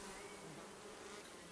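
Honeybees swarm around an opened Layens hive, giving a steady, unbroken buzzing drone that stays quiet and even throughout.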